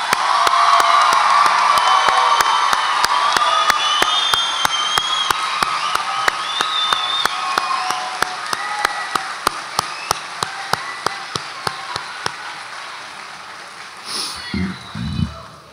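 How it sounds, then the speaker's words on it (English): A crowd at a Long Beach City College nursing graduation cheers, whoops and claps for the graduates, loud at first and gradually fading, with sharp camera-shutter-like clicks recurring throughout and a brief voice near the end. "Please give them a round of applause."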